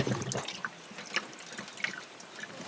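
Water trickles and drips as it is poured into an overheating old 4x4, a faint, close, intermittent splashing and dribbling with no talking.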